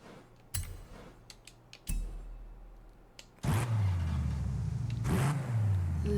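A Pontiac Trans Am engine in the racing game Forza Horizon 5 revs in bursts, a deep rising and falling growl that swells twice near the end after a few sharp clicks and quieter idle stretches.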